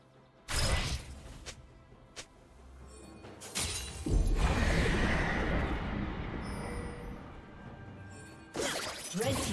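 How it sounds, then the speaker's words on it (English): A turret being destroyed in League of Legends: a few sharp shattering cracks strike, then a longer crumbling crash rumbles for several seconds before a final sharp hit. "Red team's turret has been destroyed"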